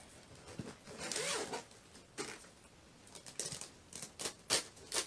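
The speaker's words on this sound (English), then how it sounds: "Got two zippers here." Two zippers on a nylon carrying bag for a 70mm travel telescope are pulled open in several short, raspy bursts, close and fairly quiet, with pauses between pulls.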